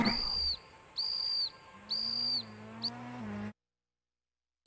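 Repeated high electronic whistle tones in the WRC: Rally Evolved video game menu, three long sustained blasts and a short fourth, loud and alone over a low steady hum, then silence.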